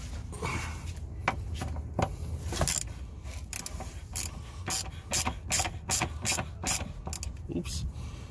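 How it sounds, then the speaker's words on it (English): Small ratchet loosening bolts on an E36 M3 rear suspension, a close run of rapid clicking bursts, irregular at first and then settling into a steady back-and-forth rhythm of strokes. "We go to a smaller ratchet now."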